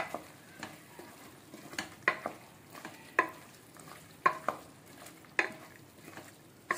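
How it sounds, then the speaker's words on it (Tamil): Mutton chukka sprinkled with coriander is stirred in a hot pan, giving rhythmic scraping strokes about once a second over a soft, constant sizzle, close and clear with no talking. "ஒரு கிளறு கிளறிட்டு"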